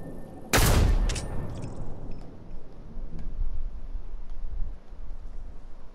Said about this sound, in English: I shoot one sniper shot and look what he builds